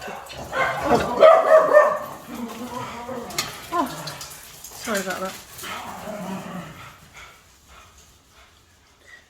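Several dogs bark and yip in a lively burst near the start, with whimpers and scattered barks continuing while someone talks over them, the noise fading toward the end.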